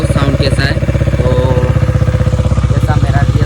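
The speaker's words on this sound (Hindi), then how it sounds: "बहुत धमाकेदार साउंड मारता है मेरा बाइक।" A motorcycle exhaust rumbles loud and close with a rapid, even thumping pulse that holds throughout.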